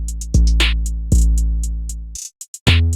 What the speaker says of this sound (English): And then I added these drums.